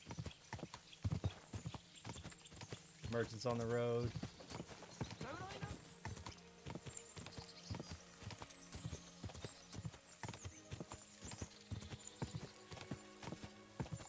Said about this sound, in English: actually just ride your horse around